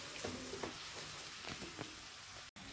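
Cabbage and mixed vegetables for fried rice sautéing in a pan, giving a steady, soft hiss of frying with a few light stirring scrapes over almost three seconds.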